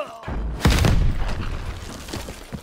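A rocket explosion in Call of Duty: Black Ops Cold War lands as one heavy, close boom, followed by a rumbling tail and scattered smaller pops.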